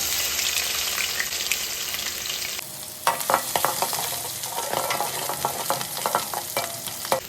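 Crushed garlic fries in hot oil with mustard seeds and fennel, a steady close sizzle that turns to spoon scrapes and louder crackling bursts as it is stirred.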